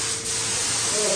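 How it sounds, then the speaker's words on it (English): A paint spray gun, fed by a Harbor Freight 8-gallon air compressor, hisses in a steady, close, continuous rush of air while a truck tailgate is painted, with a faint tone rising near the end. "The gun is spraying well."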